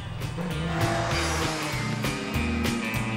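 A car drives through a hometown with its windows open, giving a steady close road and engine rumble with shifting tire noise and no voices.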